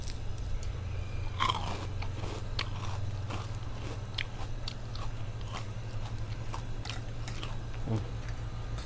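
Someone bites and chews crispy fried shellfish close to the microphone, producing repeated sharp crunches and crackles over a steady low hum, with no talking.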